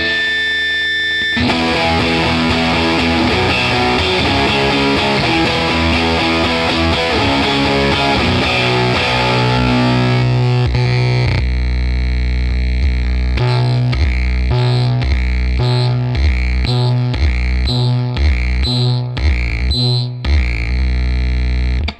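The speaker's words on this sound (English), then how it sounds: "we kind of get to a bit more of a almost sputtering kind of fuzz-like tone" Distorted electric guitar through a Caroline Guitar Company Cannonball fuzz pedal, heavy fuzz tone turning choppy and sputtering, notes cutting in and out in uneven bursts, loud and close with no talking.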